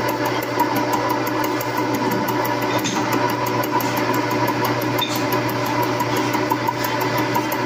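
A milling machine cuts metal in a workshop whose coolant pump and motor are broken, giving a steady, loud mechanical whir with repeating high-pitched cutting tones and occasional faint clinks, with no speech.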